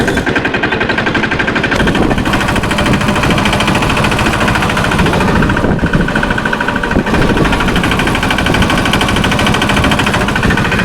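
Farm tractor engine pulling a loaded fertilizer trailer on the way to the field, a loud, steady close-up diesel chugging with rapid rhythmic knocking that runs unbroken throughout.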